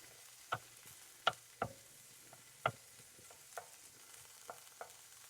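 Pineapple roasting over a flame and stirred with a slotted spoon, with sparse sharp clacks of spoon against pan against a faint low sizzle.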